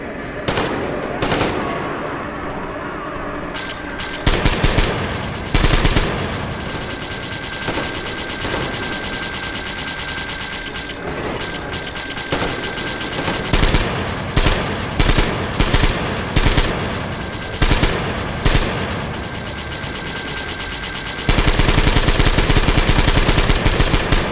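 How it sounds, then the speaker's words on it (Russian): Bursts of gunfire in the video game Metro Exodus Enhanced Edition, machine-gun rattles and single shots, loud and repeated in clusters, ending in a sustained heavy barrage. "Там он стрельба, слышите? Походу наши стреляют."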